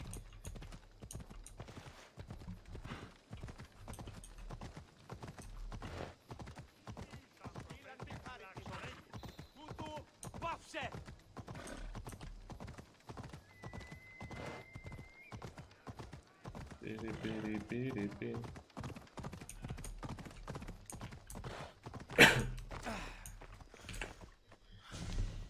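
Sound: horse galloping, clip-clop hooves, in a video game

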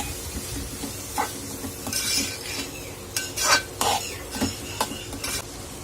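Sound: toor dal being stir-roasted in a pan

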